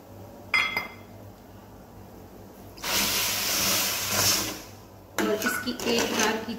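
Water is poured from a bowl into a kadhai of sugar on a gas stove for syrup, a loud rushing splash in two bursts between clinks of metal, with someone talking between them.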